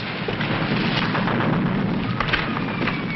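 Gunfire and explosions from a 1940s film of army war games, a dense, loud barrage of booms and shots rumbling on without a break, from an old soundtrack with the highs cut off.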